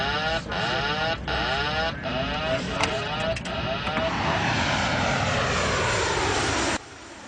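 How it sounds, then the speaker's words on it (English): Propeller airplane taxiing on a runway, a loud continuous engine drone with shifting pitch that cuts down sharply near the end, with talk mixed in. "He's taxiing on the runway."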